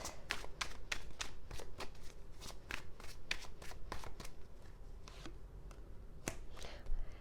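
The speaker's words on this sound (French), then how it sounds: "Je vais juste tirer quelques cartes du tarot pour les vierges pour ce mois de février." Tarot cards are shuffled and drawn by hand, giving a close, quiet stream of papery riffles and crisp snaps that thin out toward the end, with no talking.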